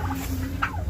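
A farmyard turkey gobbles in short rapid bursts close by, with a low steady background hum and no talking.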